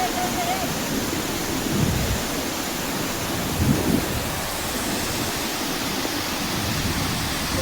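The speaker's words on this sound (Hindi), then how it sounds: "इस मंदिर के बगल से मानसून में तेज झरना गिरता है।" A powerful monsoon waterfall crashes down beside an ancient Shiva temple on Kaimur hill, a dense, steady roar of rushing water that fills the scene without pause.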